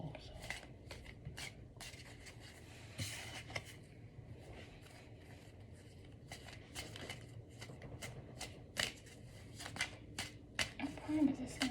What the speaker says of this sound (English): I'm going to shuffle between each pull.